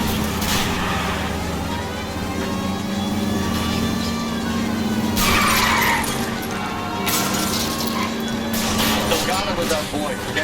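Cars roaring through an illegal street race in the 1940s Los Angeles crime game L.A. Noire, with engine drone and tire skids rising in bursts over a steady low hum, mixed with game chatter and voices.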